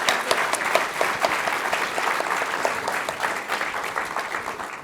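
An audience at a university library exhibit talk applauds after an onstage conversation: steady, dense clapping from many hands, fairly close and even, with no talking.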